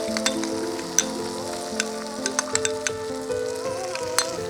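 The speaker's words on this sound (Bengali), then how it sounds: "এরপর আগে থেকেই করে রাখা পোস্ত দিয়ে দেব।" Poppy seed paste mixed with yogurt hits a hot pan for a cucumber dish, giving a steady sizzle with scattered sharp crackles and pops under soft background music.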